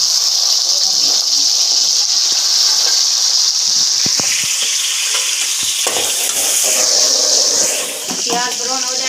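Onions sizzle loudly in hot ghee with a steady frying hiss, punctuated by occasional stirring scrapes and clicks.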